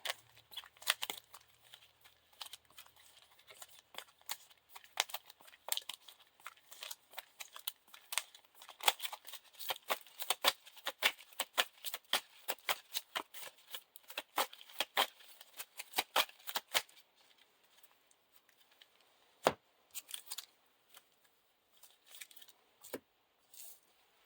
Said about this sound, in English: All shuffled in.